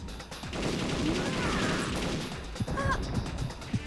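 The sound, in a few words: gunfire from the video game Perfect Dark Zero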